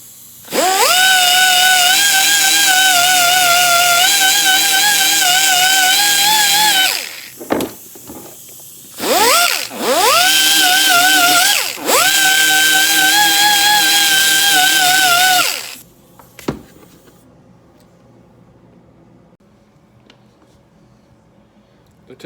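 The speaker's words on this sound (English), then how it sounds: "you can get a scrub pad for your right angle grinder here." A right angle grinder fitted with a scrub pad grinds baked-on gasket off a 1985 Harley FXRS Evo, giving a loud, steady whine in long bursts that spins down, briefly restarts and revs up again, then stops into near quiet.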